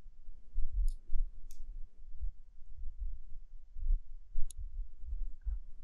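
A computer mouse button clicks while someone draws in Photoshop, giving a few sharp, isolated clicks spread over several seconds against a low, soft background hum, with no talking.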